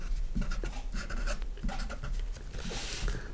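Math written out by hand, pen or pencil scratching in short strokes and pauses on paper, close and soft over a faint low hum, with no voice.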